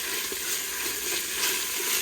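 Meat and radish sizzle and fry in a pot of curry for khao poon, a steady dense hiss with faint bubbling and stirring, close and continuous with no talk.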